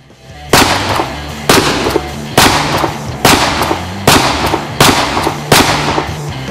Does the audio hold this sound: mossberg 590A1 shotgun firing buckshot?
yes